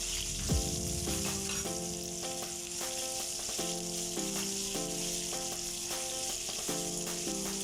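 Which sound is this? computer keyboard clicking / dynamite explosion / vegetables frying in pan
vegetables frying in pan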